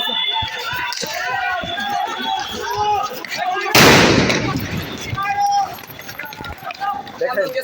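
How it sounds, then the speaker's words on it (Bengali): Police gunfire during a street protest in Bangladesh on August 7, 2024: a single loud, sharp burst cuts through a dense crowd of shouting and talking voices, with the commotion continuing after it. "দেখেন কিভাবে গুলি করতেছে পুলিশ।"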